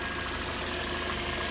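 A car engine with a 17-belt timing system idles steadily and close, a continuous low hum carrying a faint timing rattle throughout.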